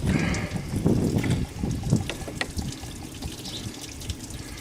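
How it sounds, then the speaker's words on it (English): Coolant draining from the radiator drain cock of an Astro van during a cooling system flush, a steady close splashing and trickling flow of liquid with no talking. "open the drain cock. Once the radiator has finished draining"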